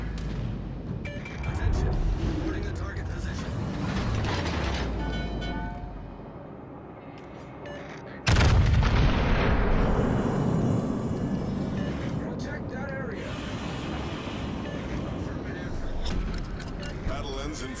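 Heavy naval gunfire from the Japanese battleship Musashi in a naval warfare video game: deep booming blasts and rumbling explosions, loudest with a sharp salvo midway, over continuous engine and sea noise with a voice talking throughout.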